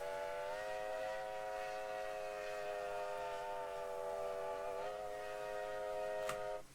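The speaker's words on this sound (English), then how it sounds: "Whistle 6 sounds like this." A rich multi-tone chime whistle from an LNER A4 steam locomotive in Train Simulator Classic sounds one long sustained blast. It wavers slightly in pitch, ends with a sharp click, and then cuts off abruptly with no talking.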